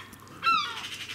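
Magpies and seagulls squabbling outdoors: one brief, harsh, fairly loud bird cry rises over a quiet background and fades within a fraction of a second.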